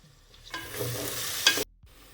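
Ginger, garlic and onion hit a hot pot and sizzle and crackle steadily, with soft stirring scrapes. A brief louder clatter is followed by sudden quiet.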